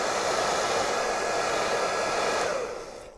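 Heat gun blowing steadily on the tank badge of a Royal Enfield Interceptor 650, a loud continuous airy roar with a faint whine that tapers off near the end as it is switched off or pulled away.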